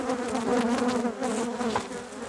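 Dense, steady buzzing of many honeybees inside an opened hive brood box holding a new queen, a continuous close drone that stays even throughout with no talking.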